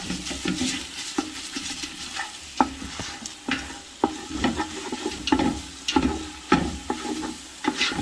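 Wooden spoon stirring meatballs and sausage browning in a pot for Italian gravy, with repeated scraping knocks against the pot over a steady sizzle of frying, no talking.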